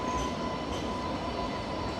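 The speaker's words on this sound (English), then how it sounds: "we've got the train" A train rolls along a street in Sydney, Australia, giving a loud, continuous close rumble of wheels and carriages that fills the whole stretch without pause, with no talking.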